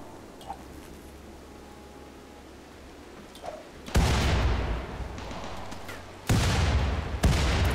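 Frag grenade explosions in the video game RimWorld, several loud booming blasts bursting in after a quiet stretch, with rumbling decay between them.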